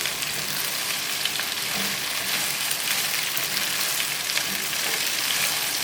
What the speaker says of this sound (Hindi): इसको अच्छी तरह फ्राई करना है।